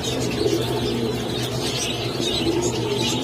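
Racing pigeons at a busy pigeon market coo steadily in a dense flock, with chirps and murmuring crowd noise layered around them throughout.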